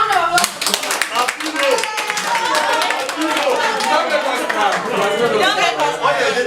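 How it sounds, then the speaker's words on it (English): A round of applause from an audience at a youth training and facilitation workshop, dense steady clapping filling the room with overlapping chatter and voices throughout. "A round of applause."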